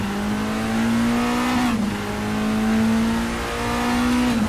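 Race car engine in Assetto Corsa, a classic endurance car lapping the Imola circuit, drones steadily and loud with a rising, falling pitch as it accelerates, with a brief dip near the middle, heard alone.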